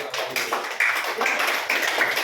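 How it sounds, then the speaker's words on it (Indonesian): Students clapping in a school science lab classroom, a brisk patter of applause with a few distinct nearby claps, short and fairly close. "ya tepuk tangan dulu buat kita semuanya ya"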